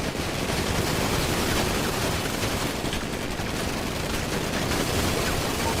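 Dense, continuous gunfire from a shooting video game rattles on without pause, a loud wash of rapid overlapping shots and bursts.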